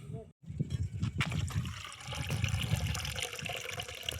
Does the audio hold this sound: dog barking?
no